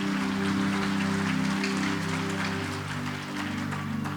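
Church congregation at a Christmas service clapping, a dense, steady wash of applause filling the room for several seconds over a sustained low organ or keyboard tone, with no voices standing out.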